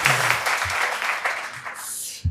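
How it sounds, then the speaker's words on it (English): Audience applause at a cardiology keynote talk on cardiomyopathy, a broad wash of clapping that stays fairly loud and steady before fading out at the end. "Did I hear an applaud then?"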